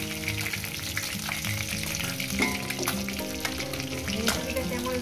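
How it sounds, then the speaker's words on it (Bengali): Fish heads frying in hot oil in a pan for a Bengali chorchori, a steady broadband sizzle with occasional louder spatters and clinks, close and continuous, with faint musical tones underneath. "মাছের মাথাগুলো একটু ভেজে নেব"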